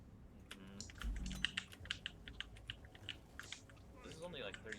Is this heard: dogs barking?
no